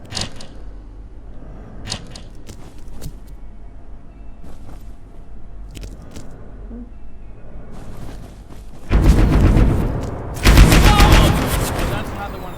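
Gunfire comes at the player in a video game: scattered single shots and clicks early on, then two loud, dense bursts of rapid automatic fire near the end, with faint voices in the background.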